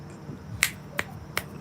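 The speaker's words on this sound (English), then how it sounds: "when there's a beating there, you snap your fingers." Three crisp finger snaps, evenly spaced and fairly close, standing alone over a faint low background hum.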